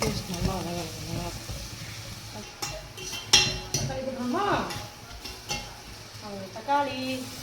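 Ginger garlic paste sautéing with onions in a pan makes a continuous sizzle broken by loud stirring scrapes and clinks of a spoon against metal, close by.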